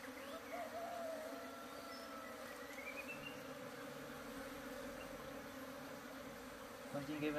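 Steady, dense buzzing of many bees at a hive, close and continuous, with a faint voice murmuring underneath and a brief rise in noise at the end.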